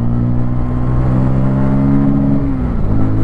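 A 2024 Bajaj Pulsar N250 roadster motorcycle engine revs steadily through the gears, a loud continuous drone with pitch sliding down briefly near the end as a shift comes.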